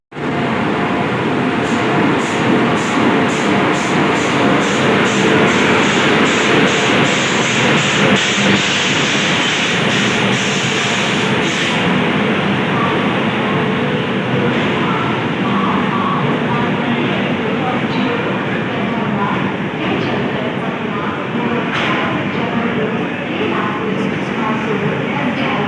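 Train noise at Barauni Junction platform, a loud, steady rumble with repeated clicking and squeaking, as a train arrives or moves through the station.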